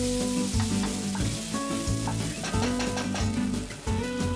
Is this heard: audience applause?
no